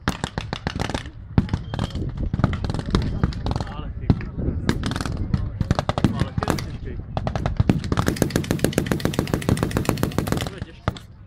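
Dense rapid bursts of blank-fired machine-gun and rifle fire crackle nearly nonstop along the front in a WWII battle reenactment, loud and sustained, with a voice talking over parts of it.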